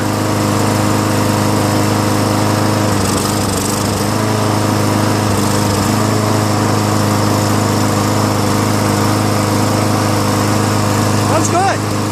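A Yard Machines MTD 6.75 push lawn mower engine with a leaking carburetor runs steadily and loudly close by, a continuous droning hum throughout with a voice talking over it.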